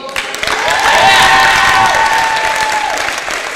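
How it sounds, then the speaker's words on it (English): A crowd claps and cheers for a bus driver in a softball team welcome-home gathering, loud sustained applause with whoops and a long shout rising over it. "give the biggest round of applause to the absolute best bus driver this weekend, Toby."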